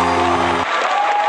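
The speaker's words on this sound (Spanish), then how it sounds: "¡Fuerte los aplausos, hombre!" Audience applause at a Christian gospel music event, a dense wash of clapping over the tail of a sustained music chord that stops partway, lasting just over a second.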